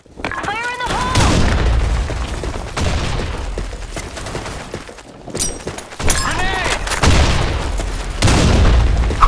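Booming grenade explosions and rattling gunfire fill a Blackshot video game match, heavy thuds and volleys recurring at close range, with voices calling out over the combat.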